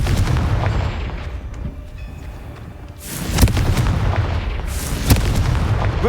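Confringo blasting spells going off in Hogwarts Legacy, a low rumbling bed of game ambience broken by a couple of sharp explosive booms with crackling bursts, the first and loudest about midway and another near the end.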